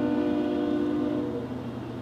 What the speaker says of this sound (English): And of course the train would go by right when I'm doing this.